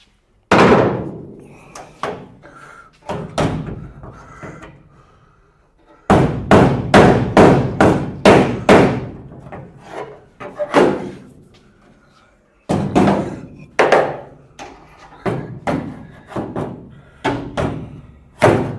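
A hammer strikes against a dolly while panel beating a Ford Escort Mk1 door: close, sharp metallic blows in fast rhythmic bursts, with short pauses between each run of strikes.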